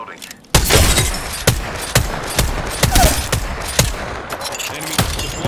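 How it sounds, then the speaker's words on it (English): Gunfire in the Apex Legends video game, a string of loud, sharp shots in rapid bursts at close range, firing repeatedly with brief gaps after a short quiet start. "Getting shot at."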